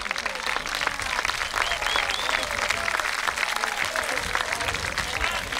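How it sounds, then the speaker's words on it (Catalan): A concert audience at a town festival gives dense, continuous applause to the trumpet soloist with an orchestra, loud and steady throughout, with scattered crowd voices underneath. "Un plou d'aplaudiment per la nostra trompeta, Jaume Grau."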